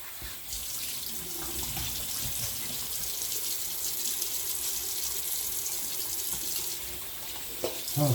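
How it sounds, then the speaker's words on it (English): Cold water runs steadily from a bathroom tap into a sink during a post-shave rinse, a continuous close hiss and splash with a few louder splashes near the end. "I'm going to do a quick rinse with the cold water here"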